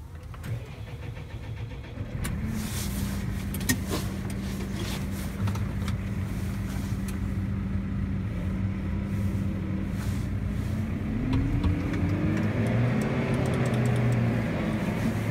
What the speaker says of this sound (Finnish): Pistetään kone käyntiin.